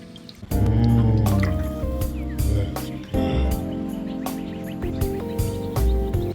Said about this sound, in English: just start pouring this lovely oil